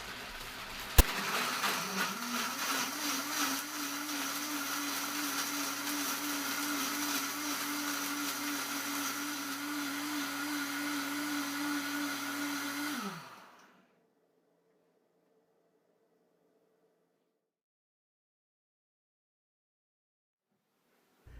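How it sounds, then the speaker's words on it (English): A Vitamix Professional Series 750 blender whirs through almonds and water, ramping up quickly to a loud, steady high-speed roar for about twelve seconds before cutting off into silence. "I'm going to start out in variable speed 1 and quickly increase to the highest speed and blend for about 40 to 45 seconds"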